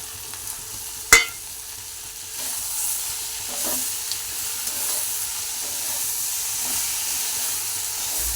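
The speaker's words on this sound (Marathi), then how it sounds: "आता आपण त्याच्यावरती टोमॅटो टाकूया" Tomatoes drop into okra frying with turmeric in a pan, giving a sharp clatter followed by steady sizzling and stirring scrapes close by, with no talking.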